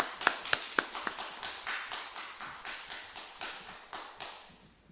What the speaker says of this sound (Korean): 박수로 격려합니다